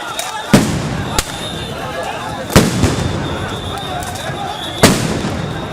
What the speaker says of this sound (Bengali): আবারও সাউন্ড গ্রেনেড ছোড়ে পুলিশ।